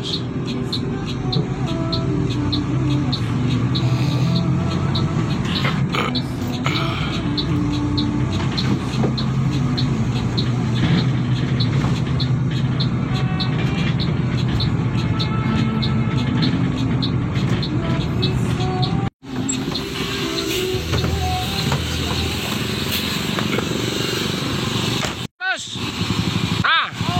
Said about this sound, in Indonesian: manuver pendek ya, manuver pendek bus Rosalia Indah